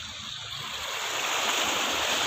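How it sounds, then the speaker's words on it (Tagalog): Steady rushing wash of sea waves breaking close by on a rocky shore in Quezon Province, Philippines, a broad continuous roar that swells slightly louder toward the end, with some wind. "Yung mga alon to."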